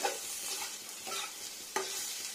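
Sliced bitter gourd sizzles in mustard oil as a spatula scrapes and stirs the pan in steady strokes, close and fairly quiet, with no voices.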